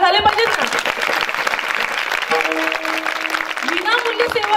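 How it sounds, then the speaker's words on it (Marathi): A seated audience at a talk in Parbhani claps in a sustained burst, the crowded patter of hands mixed with sustained tones and a voice talking over it. "टाळ्या झाल्या पाहिजेत ना"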